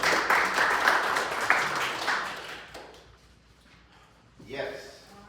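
At a business meeting, an audience claps in a dense burst that fades over a couple of seconds, with voices talking as the applause dies down.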